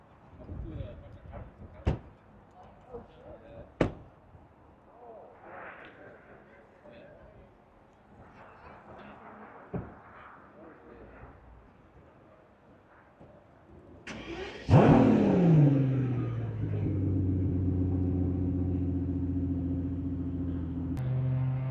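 A Pagani Utopia supercar fires up loudly partway through, then settles into a strong, steady rumble with rising revs, after a stretch of quieter street noise, clicks and talk.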